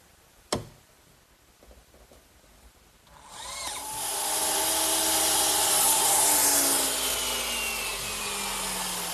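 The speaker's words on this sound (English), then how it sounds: "I'm using my miter box to cut all my pieces of cedar." A power saw cuts cedar boards, starting after a sharp knock and some quiet handling, then a loud sustained whine with a ringing pitch that holds for several seconds.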